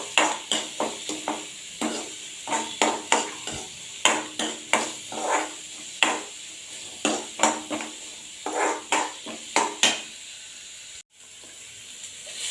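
Finely chopped onion sizzling in a hot pan, a steady frying hiss broken by regular scraping strokes of a spoon stirring it, close and clear with no talking.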